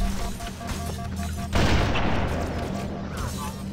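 Sniper rifle fire in Halo Combat Evolved on PC, a loud booming burst that swells midway and rolls on as dense crackling, following a steady tonal hum of game music.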